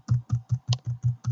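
Computer keyboard typing, seven evenly spaced key strikes in a steady rhythm, close and fairly loud with no voices.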